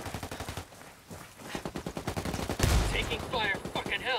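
Video-game gunfire in a special operations shooter crackles in rapid bursts, a run of fast shots building to a heavy close blast, followed by more scattered fire and chirping effects.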